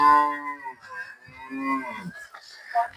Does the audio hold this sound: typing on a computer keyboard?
no